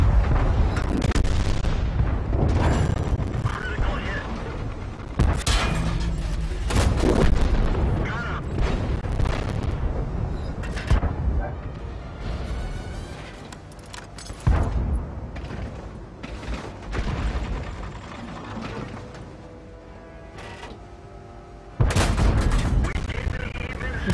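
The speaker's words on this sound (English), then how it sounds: "And our artillery is doing a good job of covering us." Artillery fire in the World of Tanks video game: repeated heavy booms and gunshot blasts with rumbling explosions, loud and irregular throughout, mixed with other battle noise.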